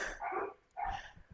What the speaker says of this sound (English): where my dog's barking?